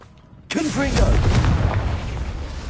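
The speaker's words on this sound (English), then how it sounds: "Confringo!" A Confringo spell strikes in Hogwarts Legacy, with a sudden loud blast after a quiet moment, then a rumbling, crackling explosion and swirling tonal effects that slowly die away.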